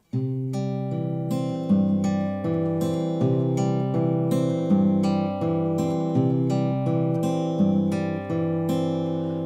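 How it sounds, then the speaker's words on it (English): Fingerpicked acoustic guitar plays a steady repeating pattern, an alternating Travis-style bass line thumping beneath plucked treble notes, clear and close with no talking. "it's really just the same pattern as pattern number 1, but we've just added in the Travis bass part"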